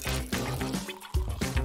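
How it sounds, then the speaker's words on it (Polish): Water pours into a blender holding fresh aloe vera gel, a short liquid splash and gurgle that is broken by a brief pause. "Potem dolewamy wodę."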